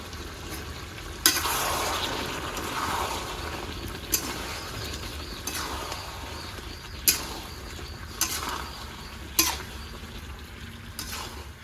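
Chicken curry being stir-fried in its spiced gravy, village style: a steady close sizzle with repeated sharp clinks of a spoon or ladle against the pan every second or two, no talking.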